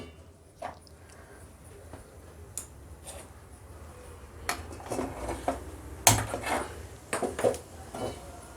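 A pan set onto a home kitchen stove amid scattered clanks and light knocks of cookware, irregular and close, growing busier and louder toward the end with one sharper metallic clunk.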